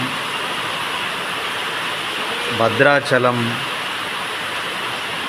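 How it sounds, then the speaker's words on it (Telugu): Heavy rain pouring at night as a steady, dense hiss and roar throughout, with a brief voice speaking midway. "ఎంత దారుణంగా వర్షం పడుతూ ఉంది."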